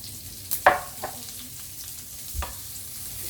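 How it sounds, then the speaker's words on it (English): Soft, steady sizzling of onions frying in a pan, with a few clinks and stirring scrapes standing out faintly over the hiss. "you can hear that sizzling"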